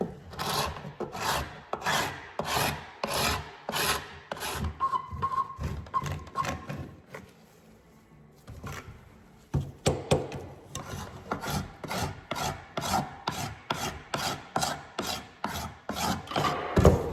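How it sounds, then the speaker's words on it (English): Carbide hand scraper dragged over old softened furniture finish on a rough wooden piece, a steady run of rasping strokes in even rhythm, close and fairly loud, pausing briefly midway before resuming. "I'm also gonna use a carbide scraper and just manually get off a bit more"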